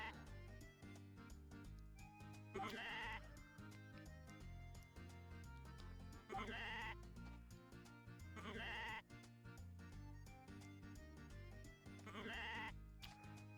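Sheep in the Story of Seasons: A Wonderful Life farming game bleat in four evenly spaced bursts over a looping, steady background music track, with no talking.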